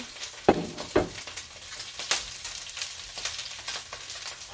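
Kale sizzles in a frying pan while being stirred, the soft hiss broken by a few louder scrapes and knocks of the spoon against the pan.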